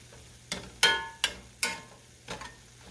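Sausage is broken up and fried in a skillet: five or six distinct scraping strokes of a utensil against the pan, spaced about half a second apart, over a quiet low sizzle.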